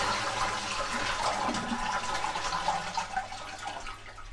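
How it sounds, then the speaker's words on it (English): A close toilet flush with the water supply shut off: a gushing, gurgling rush of water draining from the cistern that fades toward the end without any refill. "just flush the toilet."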